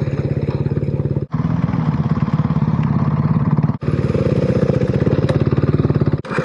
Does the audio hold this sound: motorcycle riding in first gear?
yes